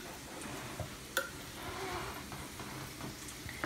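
Maltodextrin powder being stirred into Nutella in a tiny bowl, a soft continuous scraping and rustling with a few sharper clicks of the utensil against the bowl, fairly quiet and close, no talking.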